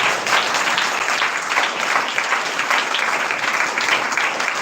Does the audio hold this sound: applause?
yes